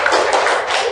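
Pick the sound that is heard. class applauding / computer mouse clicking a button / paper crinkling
class applauding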